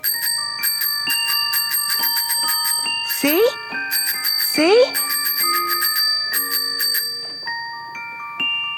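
A small bell on a red tricycle rung over and over in rapid bright dings, close and loud, while a voice speaks briefly over the ringing.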